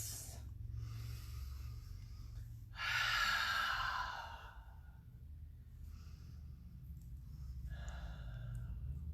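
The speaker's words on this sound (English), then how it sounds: "Big, deep breaths" Slow, deep breaths in a yoga child's pose, with long airy exhales and inhales close to the mic over a steady low hum, no talk.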